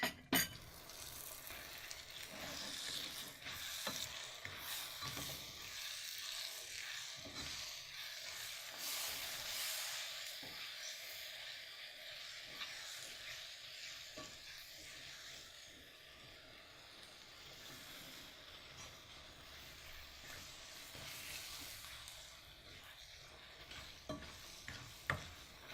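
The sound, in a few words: mixing cookie dough ingredients after adding a beaten egg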